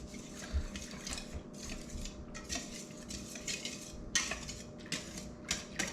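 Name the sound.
whisking vanilla ice cream mixture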